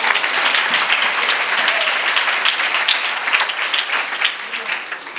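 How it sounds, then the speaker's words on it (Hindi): Loud, dense applause from a church audience during a sermon, continuous rapid clapping throughout that eases slightly toward the end. "बजाओ ना तालियां, बजाओ।"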